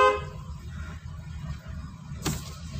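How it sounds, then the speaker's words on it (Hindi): A car horn gives a short honk near the end, heard faintly from inside a car during a driving lesson over a low engine hum, with no talk. "हॉर्न बजाइए ज़रा"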